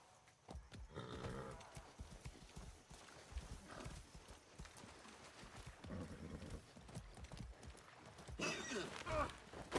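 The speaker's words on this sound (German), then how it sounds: "So ein blödes Pferd." Steady clip-clop of horse hooves at a walking pace in the video game Far Cry 6, with a brief whinny near the end and a person talking intermittently over it.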